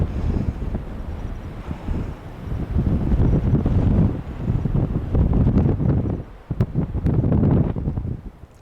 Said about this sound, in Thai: ลมแรงที เดียว